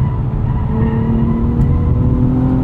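A 2024 Acura TLX Type S with all-wheel drive powers hard out of a corner, its engine droning loud and steady from inside the car for a few seconds.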